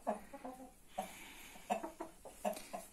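Year-old young roosters in a breeding flock cluck in short, repeated bursts, fairly close but soft, with a few separate calls spaced across the moment.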